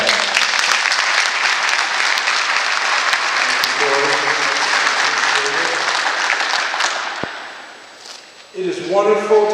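Enthusiastic crowd applause at a ribbon-cutting ceremony for an ice arena welcomes a speaker, dense clapping that fades after several seconds before a voice begins talking.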